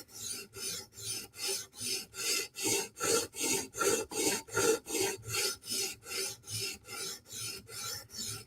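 A Spyderco Military 2 knife with 15V steel is drawn across a sharpening stone in about seventeen even, rasping strokes, a steady back-and-forth rhythm of roughly two strokes per second, close and fairly quiet.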